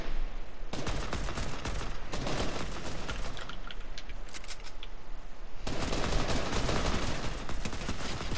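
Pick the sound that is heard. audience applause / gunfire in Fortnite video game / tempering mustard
gunfire in Fortnite video game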